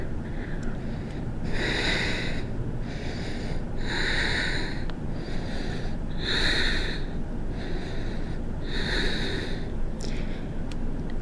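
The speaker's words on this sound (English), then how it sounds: "Breathe into it." Slow, deep breaths drawn by a person holding a yoga pose: five long, airy inhale-exhale cycles, roughly two seconds apart, close and steady over a faint background hiss.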